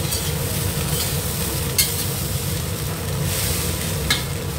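Scrambled egg is tossed in a hot wok for a spicy snake bean stir-fry, a loud constant sizzle with faint scraping and two sharp spatula knocks against the pan, no voices.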